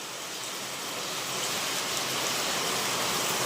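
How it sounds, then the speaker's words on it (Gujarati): Heavy rain pouring over an open village field, a dense, steady hiss that swells slightly louder over a few seconds, with no voices. "અત્યારે જો આવે છે જોરદાર વરસાદ"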